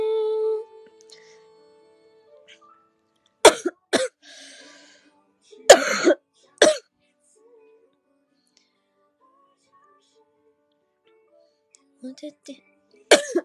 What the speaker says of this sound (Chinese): 在咳嗽，今天咳嗽可好猛。